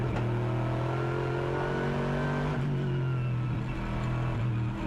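GT1 race cars at the Nürburgring sweep into a left-hander, engines droning loud and steady with harmonic tones that rise and fall as the cars pass close by.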